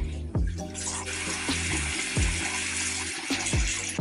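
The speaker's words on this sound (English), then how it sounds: "Then I'm just gonna rinse." A bathroom tap runs steadily into a sink as face cleanser is rinsed off, with close splashing and uneven sloshes from hands cupping water, no talk.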